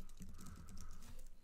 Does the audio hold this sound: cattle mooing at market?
no